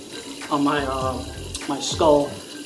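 Tap water runs into a sink for rinsing a freshly shaved head, a steady faint stream heard beneath someone talking close to the microphone.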